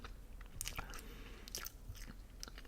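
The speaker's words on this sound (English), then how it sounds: "chewing this gum, and then I'm gonna spit it out because it's kind of already lost flavor" Gum is chewed close to the mic in a quiet whisper-style recording, with soft, irregular wet clicks and smacks repeating every half second or so against a faint background hum.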